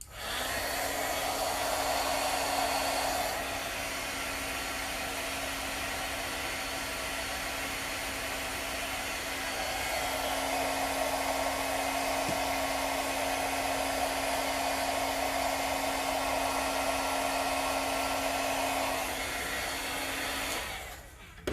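A heat tool blows a steady, loud, continuous whoosh of hot air over a stamped image, running unbroken for about twenty seconds before cutting off, close and alone.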